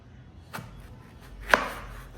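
Two crisp knife chops land on a cutting board about a second apart as a raw mango is cut, each a sharp short crack over a quiet room.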